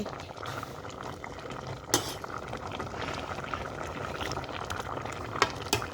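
A pot of khilek (cassia leaf) curry boiling on the stove, steady bubbling and gurgling of liquid close by, with a few sharper pops and clinks breaking through the simmer.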